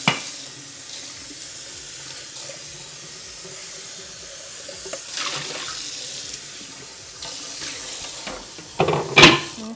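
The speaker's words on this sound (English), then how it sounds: "I'm going to rinse out the breadcrumb food processor" Tap water runs steadily into a kitchen sink while a food processor bowl used for breadcrumbs is rinsed, with a continuous hiss and a louder splashing burst near the end.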